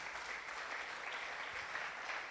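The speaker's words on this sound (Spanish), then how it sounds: "dale ese aplauso al Señor" A church congregation applauds together during a sermon, a steady, fairly distant wash of clapping that holds evenly without talk.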